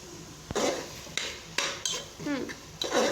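A spoon stirs tomato paste into softened onions in a cooking pot, making several scraping, clinking strokes against the metal with short pauses between them, close up and with no talking.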